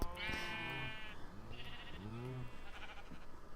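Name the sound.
sheep bleating in Minecraft video game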